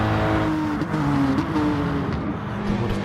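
An Audi TT race car in Gran Turismo Sport drones with a loud, sustained engine note that rises and shifts pitch through gear changes. The sound is close and continuous, with no voices.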